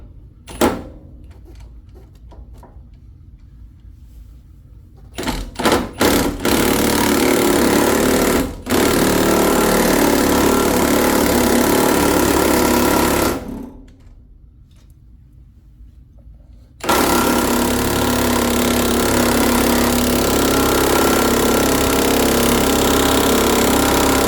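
A power tool on a trailer leaf spring bushing bolt runs in three long, loud, rattling bursts. A few sharp starts come first, and there is a quieter pause between the second and third runs.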